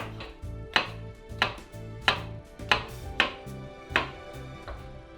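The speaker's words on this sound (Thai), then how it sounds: "ต่อไปผมก็จะใช้เห็ดแชมปิญองกับเห็ดหอมนะครับ มา สไลด์ก่อนบางๆนะครับ" Knife slicing champignon and shiitake mushrooms thinly on a board in a steady series of crisp, close cuts, about seven strokes in a little over five seconds, with no talking.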